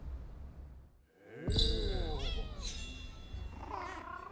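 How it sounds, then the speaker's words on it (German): A cat meows a few times in the video game Rise of the Ronin, short clear tonal cries close up after a brief quiet moment, with no talking. "bringe eingesammelte Katzen zu Usugumo Dayu, um Belohnungen zu erhalten."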